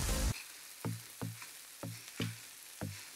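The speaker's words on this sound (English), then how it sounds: "Now I'm gonna add broccoli into the mix and allow it to sizzle just a little bit more" Beef and broccoli sizzle steadily in a hot pan, with a loud opening burst and then a series of regular soft knocks over the frying hiss.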